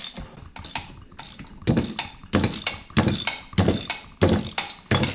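A ratchet undoes engine case bolts on a Norton Commando 750 during a case split, giving loud, close, rhythmic bursts of clicking in repeated strokes, roughly eight in a row.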